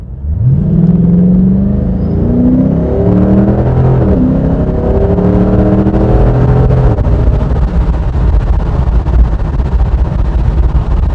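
A 2007 Ford Mustang launches hard from a standing start, its engine roaring loud and close as the pitch climbs through several rising sweeps with gear changes and settles into a sustained drone.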